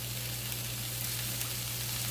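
Oil sizzling steadily on a hot comal griddle, a close, continuous crackling hiss with no pauses.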